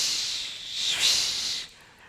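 A congregation at an intergenerational church service imitates a wild ocean with a steady breathy hiss that swells near the middle and then drops away, brief and fairly close with no talk.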